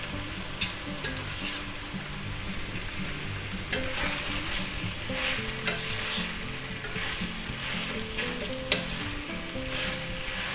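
Spaghetti and sausage stir-fried with a soy sauce mixture sizzle steadily in a hot pan, with repeated scraping stirs and utensil clinks over a constant frying hiss.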